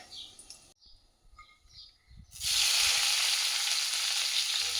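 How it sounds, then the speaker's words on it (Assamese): Black cumin seeds sizzling in hot oil for tempering, a loud steady sizzle that bursts in partway through after quieter clatter and faint bird chirps. "ইয়াত মই অকণমান ক'লা জিৰা দি ফোৰণ দি ল'ম।"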